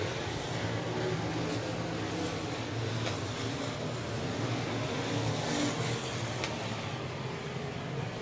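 Limited modified race cars roar around a dirt track at the Southern Nationals in heavy lap traffic, a steady dense engine drone at close to mid distance, with no break across the stretch.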